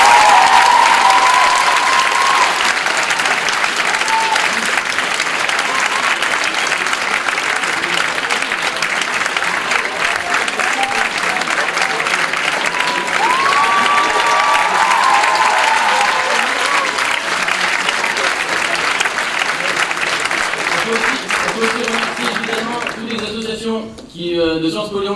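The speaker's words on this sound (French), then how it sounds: "Ils ont tous un talent incroyable et on peut encore les applaudir." A large audience at an evening speaking-contest ceremony applauds the orators with loud, dense, sustained clapping that carries on for about twenty seconds before tapering off, with some voices mixed in.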